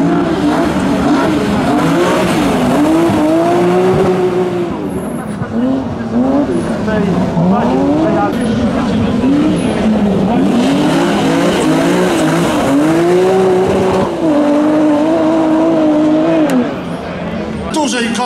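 A BMW M3 rally car at the Barbórka Rally on Karowa street in Warsaw accelerates hard over asphalt and cobblestones, its engine loud and close, rising and falling through rev sweeps with tyre noise, the roar almost continuous throughout.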